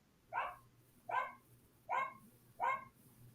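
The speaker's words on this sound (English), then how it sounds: "my dog tweaks my brain because she's just in there barking" A dog barks indoors from another room, four evenly spaced barks that sound muffled and moderately distant against a quiet background.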